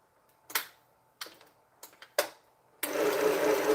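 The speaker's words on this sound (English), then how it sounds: "It seems to sew better on the slow mode." Sewing machine stitching quilt top pieces: a few sharp, separate mechanical clacks, then a steady close whirring run of stitching at the end.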